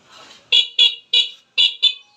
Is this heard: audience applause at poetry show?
no